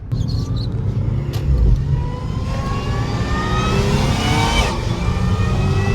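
A supercharged car driven hard on canyon roads, engine revving loudly with rising whine through continuous acceleration, steady and close throughout.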